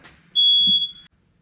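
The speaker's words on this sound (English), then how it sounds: "Sorry about the smoke alarm." A single shrill electronic beep from a smoke alarm, lasting under a second, sharp and close in an otherwise quiet room.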